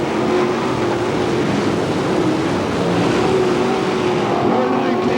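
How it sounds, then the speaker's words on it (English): Late model stock cars roar around the Hamilton County Speedway dirt track in Webster City, Iowa, during a 25-lap feature race, a loud continuous engine drone with a track announcer talking over it. "We're 19 laps down of a scheduled 25-lap late model feature race."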